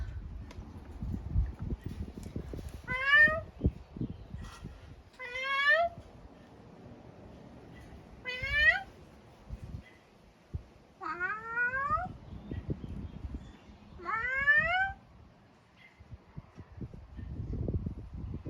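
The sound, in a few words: cat meowing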